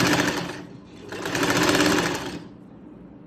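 Sewing machine stitching lace onto a dupatta, two close, steady runs of rapid mechanical chatter with a brief slowdown between them, then stopping.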